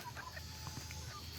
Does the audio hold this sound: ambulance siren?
no